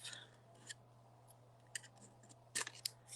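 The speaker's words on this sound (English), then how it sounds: "I just take my scissors and snip them off" Several quick scissor snips sound at irregular intervals, sharp and close, with a couple of snips in fast succession near the end over a low steady hum.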